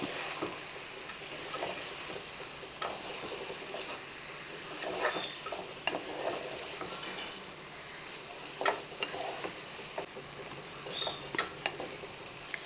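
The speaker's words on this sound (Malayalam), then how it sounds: "മുട്ടയോടെ ഒന്ന് ചേർത്ത് ഒന്ന് ഇളക്കി കൊടുക്കുക" Egg stirred into an okra stir-fry in a hot pan, a continuous soft sizzle with irregular scraping and tapping of the spoon, fairly quiet and steady.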